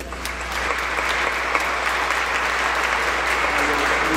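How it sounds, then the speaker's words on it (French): A church congregation at a Sunday Mass gives sustained, dense applause that fills the space evenly for several seconds, with faint voices mixed in beneath the clapping. "nous les applaudissons une fois en plus."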